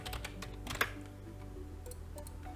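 Quiet computer keyboard typing of code, a short run of soft clicking keystrokes with one sharper tap, no voice.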